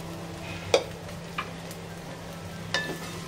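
Sabudana khichdi with peanut powder is stirred in a pan, with a low frying hiss and three or four soft scraping clinks from the spoon, close by, with no talk.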